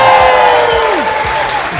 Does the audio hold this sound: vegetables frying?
no